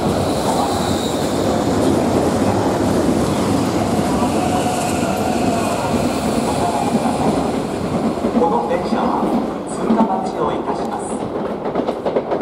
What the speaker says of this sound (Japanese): 4番ホームに快速急行新宿行きが14編成で参ります。